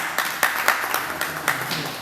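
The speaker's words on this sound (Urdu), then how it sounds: "تو صابر انصاری صاحب کے لیے میں چاہوں گا کہ آپ محبت سے تالیاں بجا دیں" An audience at an indoor gathering gives scattered, uneven applause, with individual claps standing out in a loose rhythm over a low room murmur.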